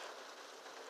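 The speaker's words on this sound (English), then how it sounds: "Sorry if you hear the rain in the background." Steady rain falls outside a parked car, a dense, even hiss of drops on the surface that runs unbroken and fairly quiet throughout, with no voices.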